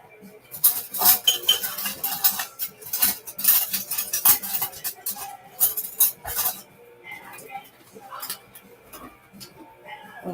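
A set of metal measuring spoons clinking and rattling as they are handled and sorted in a kitchen, bright irregular chinks in bursts, close by, with a person talking at times.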